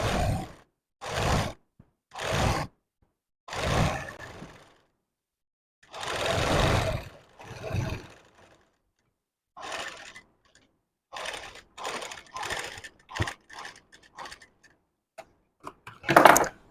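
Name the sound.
sewing machine stitching blouse neckline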